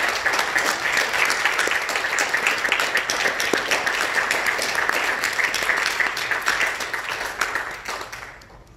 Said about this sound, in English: let's just give one more round of applause to our graduates and our speakers